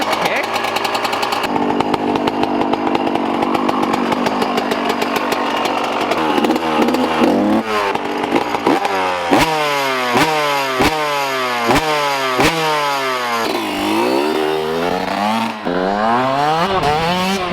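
A Yamaha YZ125 two-stroke dirt bike is kick-started and revved, its loud, raspy buzzing engine climbing and falling through repeated sharp throttle blips, close by with occasional voices.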